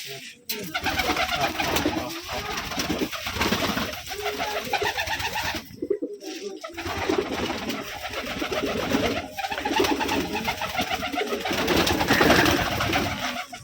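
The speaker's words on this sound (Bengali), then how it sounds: "এই যে যা দেখছেন সবগুলো রাজশাহী গিরিবাজ।" Rajshahi Girebaj pigeons cooing in a loft, a dense overlapping chorus of many birds, close and loud, continuing throughout with wing flutters and a brief lull partway through.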